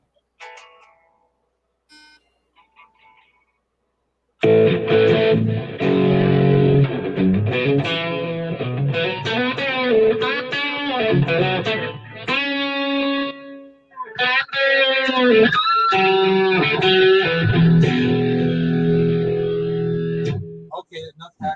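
Electric guitar runs through a Line 6 Helix processor and plays out of a couple of small computer speakers, giving sustained, effected chords and notes after a quiet start, with talking over parts of it.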